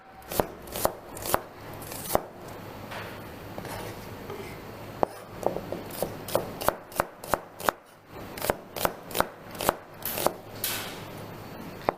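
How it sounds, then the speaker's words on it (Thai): Rapid knife chops slicing an onion on a cutting board, bursts of sharp taps with short pauses between, close and crisp. "ขั้นอันดับแรกเราก็มาหั่น หอมใหญ่"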